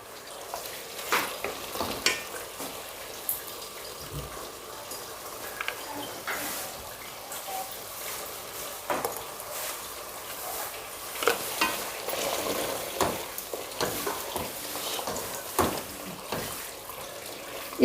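Mutton karahi frying in oil in a home kitchen, a steady sizzle with repeated scraping and clinking of a spoon stirring the pan, moderately close with no talk.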